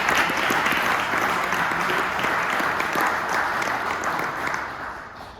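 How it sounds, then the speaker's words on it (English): Sustained audience applause at a regional community event, a dense steady wash of many hands clapping at full strength that gradually tapers off near the end, with no voices over it. "Another round of applause for David, Jody, and Steve."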